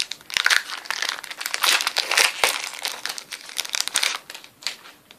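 Crinkly foil wrapper of a Magic Origins booster pack being torn and crumpled open, a close, busy stream of crackling and rustling with sharp tearing bursts throughout.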